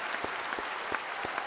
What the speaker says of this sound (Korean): 큰 박수로 하나님 앞에 영광을 돌리는 박수를 드리겠습니다